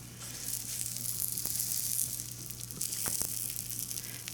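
Brown butter French toast frying on an IKich grill griddle gives a steady, close sizzle that holds throughout, with a few faint clicks and no voices.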